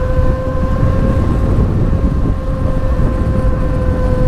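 Steady, loud electric motor whine with strong wind rush as a Happyrun G300 Pro 72V electric bike is ridden at speed, a constant drone throughout with no talk.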